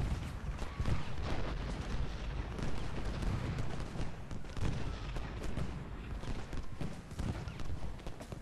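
Cannon and artillery boom across a Civil War battlefield at Gettysburg in Ultimate General, a dense, continuous roar of thumping blasts and crackling gunfire with no one talking.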